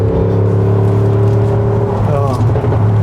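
A large supercharged Land Rover's engine accelerates hard, a loud, steady close-up roar that rises in pitch toward the end with a brief whine, a voice faintly beneath it.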